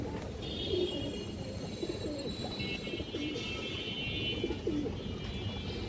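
Pigeons coo softly and repeatedly at close range, paired red khaki show birds in a loft, with other faint chirps and a steady background hum.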